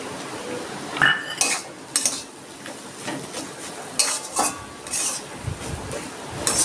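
Mustard oil goes into a pan while filling is readied for stuffed pointed gourd, with repeated clinks and scrapes of utensils against the cookware and a faint sizzle, fairly close and free of talk.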